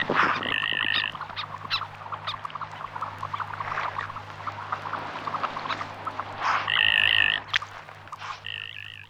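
Common goldeneye ducks give display calls: a string of short, rapid clicking and rattling notes with a few sharper buzzy calls, close and clear over a low background hum.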